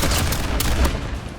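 A burst-firing pump shotgun in a battle royale video game, with loud, close gunfire blasts in a rapid cluster over a noisy game soundscape.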